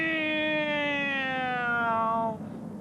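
A voice imitates a cat's meow in a children's bedtime story, one long drawn-out wailing meow that slowly slides downward in pitch, close and clear, fading near the end.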